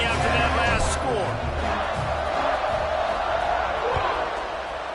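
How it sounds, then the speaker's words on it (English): Stadium crowd buzzing in a football video game, a steady roar of cheering and murmur filling the background under a play-by-play announcer's voice. "this crowd is buzzing after that last score"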